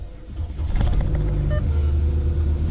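Audi car engine cranking and catching after the key goes in with the clutch held down, a brief starter whir and click giving way to a steady low idle rumble up close.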